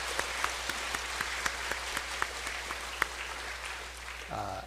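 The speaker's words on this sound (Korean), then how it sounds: "우리 감사한 마음으로 영광 돌리는 마음으로 크게 박수 한번 하시기 바랍니다" Congregation in a church sanctuary on Easter Sunday applauding in gratitude, heard as faint, distant scattered claps with sharp individual slaps over a quiet background hum, and a voice entering at the end.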